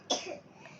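A young girl with a lingering cough coughs once, a short, sharp burst close by, followed by a faint trailing breath, with no speech.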